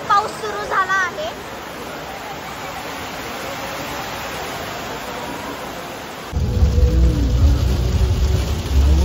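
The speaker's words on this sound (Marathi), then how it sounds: "इथे ना जोरदार पाऊस सुरू झाला आहे" Heavy rain falls in a continuous hiss. A voice is heard briefly at the start, and the downpour swells into a louder, deeper rumbling roar for the last few seconds.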